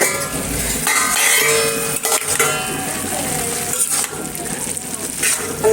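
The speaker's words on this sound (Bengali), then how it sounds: "আমি ঢাকনাটা সরিয়ে দিলাম।" A pot lid is lifted off a sizzling oil-free dried fish curry, with continuous loud frying hiss and a few metallic clinks from the pot and utensils.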